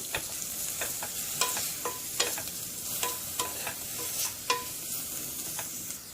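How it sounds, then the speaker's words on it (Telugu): Potato samosa filling stirred in a hot pan after salt is added, soft frying sizzle underneath with repeated sharp spoon scrapes and knocks at an uneven rhythm. "కొద్దిగా 1 స్పూన్ దాకా వేసుకొని అంతా కలిసేలాగా ఒకసారి కలుపుకోవాలి"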